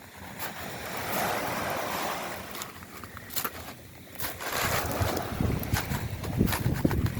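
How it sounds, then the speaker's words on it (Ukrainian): Adriatic Sea waves wash and break against the beach in steady surges, with gusty wind buffeting the microphone and no voices. "слушаємо море."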